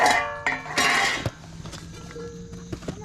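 A big cast iron pan handled at an outdoor yard sale, giving a few close metallic clanks and knocks in the opening second, followed by quieter scattered contact sounds.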